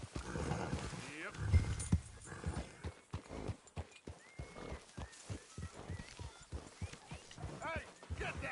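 A horse in Red Dead Redemption 2 walks with steady clip-clop hoofbeats and gives a whinny early on, heard under game characters' dialogue that continues through the clip.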